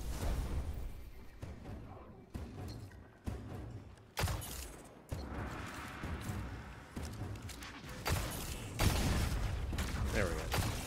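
Hand cannon fire in the video game Destiny 2, during a campaign mission of The Final Shape, cracks out as a series of sharp, irregularly spaced shots with busy game effects between them.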